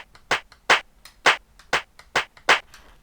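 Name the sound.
hand clap sample on a Roland TR-707 drum machine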